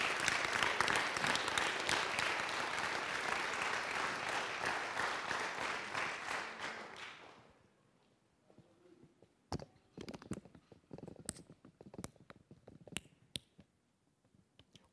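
A church congregation applauds, dense clapping from many people that runs steadily for several seconds, then tapers to a few scattered, isolated claps and taps in a quieter room.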